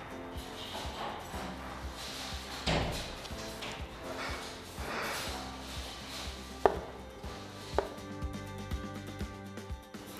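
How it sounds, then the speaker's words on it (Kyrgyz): A knife chops tomatoes for a salad on a board, with quiet, irregular cuts and a few sharper knocks of the blade, soft and close against low background noise. "Азыр помидорду турайбыз."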